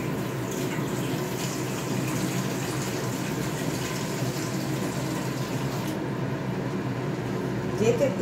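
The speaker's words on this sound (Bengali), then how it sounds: "এবার আমি পরিমাণ মতো জল দিয়ে দেবো।" Water is poured into a cooking pot of spiced curry whose masala has been fried until the oil separates. A steady, close splashing rush continues for about eight seconds, with a voice faintly present underneath.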